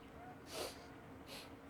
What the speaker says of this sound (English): Sniff.